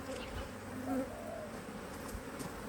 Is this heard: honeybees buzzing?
yes